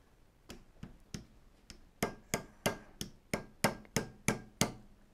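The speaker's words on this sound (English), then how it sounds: "You just take the dead blow hammer or rubber mallet." A series of sharp dead blow hammer taps on a sprayer pump part, a few scattered at first, then a steady run of about ten evenly spaced blows, close and clear, no talking.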